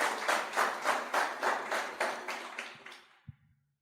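Rhythmic clapping from a church congregation, steady beats about twice a second, fading out toward the end with a single sharp tap after it stops.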